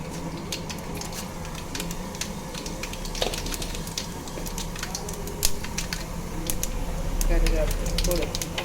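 Mustard seeds and chana dal sizzle in hot oil for rava kitchadi, a continuous crackle dotted with sharp pops and spits, with a voice speaking over the frying.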